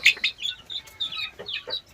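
Short bursts of clucking from a nearby 45-day-old local chicken, several quick calls spread across two seconds with no talking.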